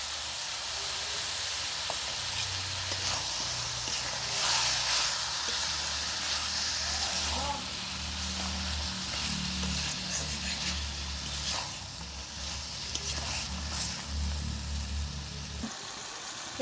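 A paste of tomato, ginger and green chili fries in hot oil for a fried chicken curry, making a loud, continuous sizzling hiss with a low rumble underneath. It holds steady almost throughout, close by, with no one speaking.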